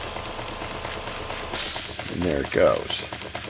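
Steam hissing from a small Grasshopper model steam engine fitted with spring-detent cylinder cocks, a steady broadband hiss that surges louder partway through, with a voice speaking briefly over it.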